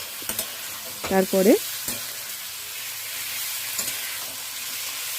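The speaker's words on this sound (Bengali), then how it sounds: "ভেজে রাখা পনিরগুলো দিয়ে একটু নাড়াচাড়া করে নিলে" Fried paneer for pepper paneer stirred in a hot pan, with a soft continuous sizzle, a few sharp utensil knocks and a brief spoken word over the cooking.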